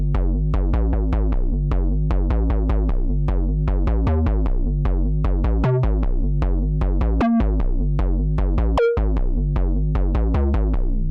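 A synthesizer with a built-in step sequencer runs a steady repeating pattern of short plucked bass and synth notes, with a few held accented steps. The pattern is continuous and even in loudness, with no talking.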